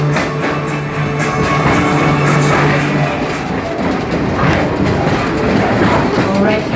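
A train ride on the way back to a depot at a pumpkin festival, with a loud continuous rumble and clatter of wheels on track that carries on without a break. A low tone fades out partway through.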